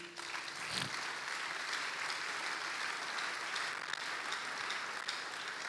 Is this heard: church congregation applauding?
yes